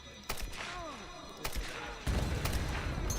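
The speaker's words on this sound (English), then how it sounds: "So we get the rifle for the first time here, and we got this slow motion bit where it forces you to kill all these guys" Rifle shots fired during a slow-motion sequence in Tomb Raider (2013), a few sharp reports spread over a few seconds amid a dense, rumbling game mix with falling tonal effects.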